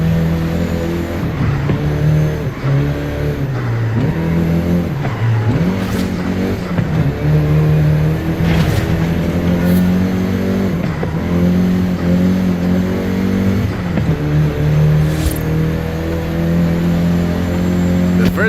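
A Volkswagen Golf GTI engine in Forza Horizon 5 revs steadily, its droning tone rising and dropping through repeated gear shifts, loud and close for the whole stretch with occasional sharp clicks.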